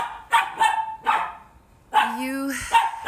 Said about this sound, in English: They're chasing each other and barking.